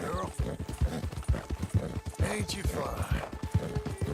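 A horse's hooves clip-clop in a steady walking rhythm close by, while a person speaks gently over the footfalls.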